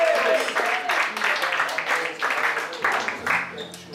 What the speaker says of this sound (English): So let's cheer them on.